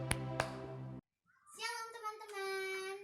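Clapping for Jesus during an online Sunday school service, following a short pause after speech, with a tonal sustained sound running underneath the applause.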